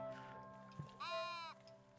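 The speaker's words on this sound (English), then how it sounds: "And the sheep, or whatever that is." A single sheep bleats in the video game Tiny Glade, one clear, wavering call lasting about half a second, rising over quiet ambient background music.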